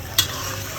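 Haleem cooks in a pot with a little water added: a single quick scrape of a stirring spoon against the pot rises briefly over a faint, low sizzle.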